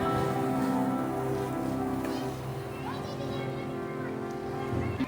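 Rain falling on a flooded Karachi street, a steady wash of patter under a voice speaking throughout, with children faintly audible in the background.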